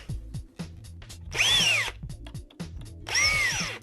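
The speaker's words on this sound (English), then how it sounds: "You then drill two holes" A power drill whines loudly in two short bursts, rising in pitch as it spins up, drilling holes in a pan drawer unit panel, with clunks and handling noises in between.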